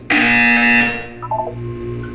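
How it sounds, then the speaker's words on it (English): A loud, harsh electronic buzzer in the Portal 2 video game sounds once for nearly a second, then fades into a quieter synthetic tone and lingering ambient hum. "You will hear a buzzer."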